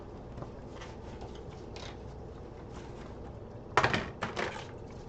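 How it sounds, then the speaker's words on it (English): A spoon stirs dill pickle soup in a pot. Near the end come a few quick metallic clanks and scrapes against the pot, set over a quiet kitchen background with no voices. "After I dry these, I'll give the soup a little stir."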